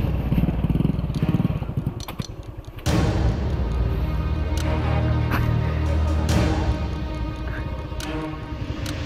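A trail motorcycle ridden at night, its engine a close, loud, throbbing drone with rattling mechanical ticks, dipping briefly and then surging back to a steady rumble.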